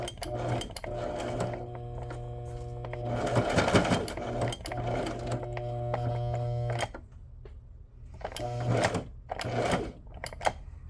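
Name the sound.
sewing machine stitching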